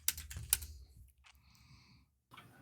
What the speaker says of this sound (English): I just hear furious typing again.